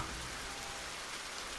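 Rain falls as a sound effect behind a dramatic reading of a story set at the Rashomon gate, a dense, steady hiss of drops on a surface heard alone without any voice.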